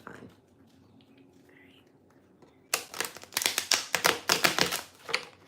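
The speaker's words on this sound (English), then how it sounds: "I'm just gonna do some shuffling" Tarot cards are shuffled close up. After a quiet start, a burst of crisp, rapid riffling and tapping flutters begins, loud and busy to the end.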